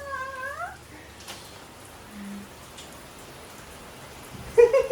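Soft, steady patter of rain throughout, with a cat meowing briefly at the start and a few clattering knocks at the end.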